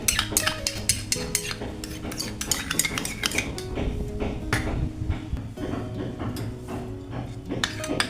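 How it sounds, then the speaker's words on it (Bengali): A spoon beats a paste briskly in a bowl to coat bhetki fish, giving rapid, uneven clinks and knocks against the vessel with soft wet mixing between them, close up and without speech. "খুব ভালো করে ফেটিয়ে নিতে হয়, খুব ভালো করে, কোনো যেন লাম না থাকে আর কি, সেভাবে ফেটিয়ে নিতে"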